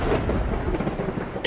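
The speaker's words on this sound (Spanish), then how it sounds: "Esa noche una terrible tormenta invernal sopló sobre los soldados, estremeciendo el cielo con truenos y relámpagos" A winter thunderstorm over soldiers in the field, with loud continuous thunder rumbling heavily in the low end and a wash of rain and wind throughout, no voices.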